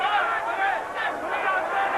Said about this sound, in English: And as you can hear, the crowd are solidly behind him.